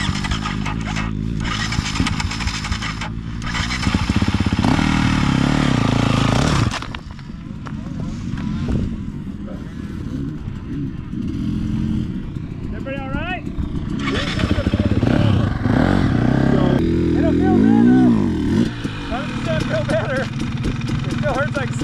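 A dirt bike engine revving and droning loudly up close during a desert race, rising and falling in pitch, with a person talking over it.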